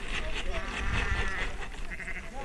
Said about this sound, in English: All the sheep here are pure Jacobs.